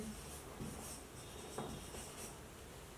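A pen writes on paper at close range, scratching softly and steadily beneath a constant background hiss.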